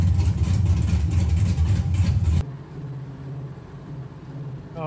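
A Gen3 Hemi engine fitted with Aces EFI Jackpot engine management idles in a truck: a loud, steady low rumble that drops abruptly to a quieter, even idle halfway through.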